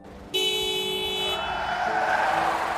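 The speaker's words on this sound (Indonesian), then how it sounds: "tak disangka muncul mobil yang melaju kencang ke arahnya" A car speeds toward a person on a city road and sounds a long, loud, steady horn blast over rising engine roar and tire noise.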